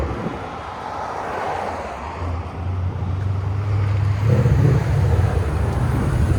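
A 2016 Ford Mustang GT 5.0L V8 with headers and Valvetronic Designs valves open, a steady deep rumble at idle that swells louder near the end as it builds toward launch, with no talk.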